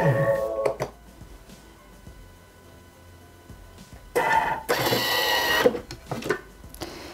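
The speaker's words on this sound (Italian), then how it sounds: "e li facciamo tritare per 7 secondi a velocità 7" A Thermomix kitchen food processor chopping carrots and onion at speed 7 roars in a loud, steady burst lasting a couple of seconds, after a few quieter clicks and clatters.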